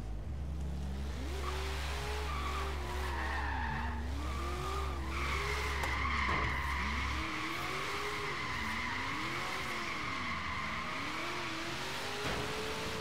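Tires squeal continuously as a 1970 Challenger races and skids in Forza Horizon 3, a wavering engine drone rising and falling beneath a steady, loud screech.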